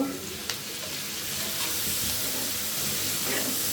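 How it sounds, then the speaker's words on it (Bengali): Fish curry masala with cumin and coriander powder sautéing in a pan, a steady close sizzle with stirring scrapes and a brief clink near the start, no talk. "তারপর এটাকে আমি ভালো করে কষিয়ে নিব"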